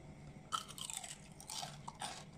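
Close, crisp crunching and chewing of fried chicken with a crunchy skin, served with Thai green curry sauce, heard as repeated bites and mastication with no talking.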